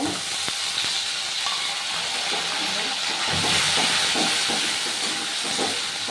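Onion, ginger and garlic paste frying in a hot pan, a loud continuous sizzle and hiss with scattered crackles throughout, close up.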